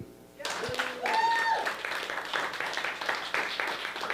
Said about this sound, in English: please give a warm, loud round of applause for new Hamilton resident, Jamie.